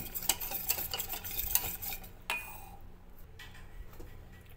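A spoon stirs curd into semolina batter in a bowl for rawa uttapam, giving close, quick scraping strokes for about two seconds before the mixing softens into quieter, intermittent scrapes.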